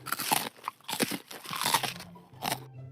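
Crisp crunching bites and chewing on homemade french fries, close and loud, several bursts in quick succession.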